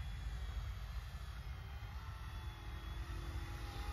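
An RC ERA C186 Pro model helicopter flies and holds a hover, giving a steady, faint whirring drone that stays even throughout with no talking.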